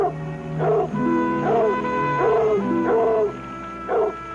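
A dog howls in repeated long, rising and falling wails, about four drawn-out cries in a row, loud and close with no talk over them.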